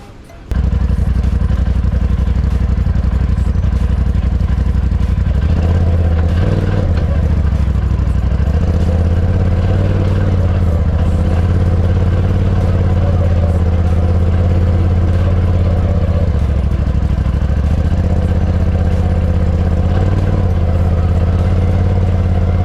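A 2020 Polaris RZR Pro XP side-by-side idles and rolls slowly back and forth, its engine a steady close rumble with low revving swells and light clatter throughout.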